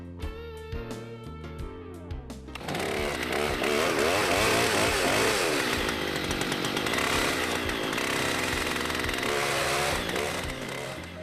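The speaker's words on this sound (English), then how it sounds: "A log this big needs a big chainsaw" A large chainsaw with a bar over 2 meters long roars to life after a brief tonal opening, then grinds loudly and steadily through a huge log for several seconds.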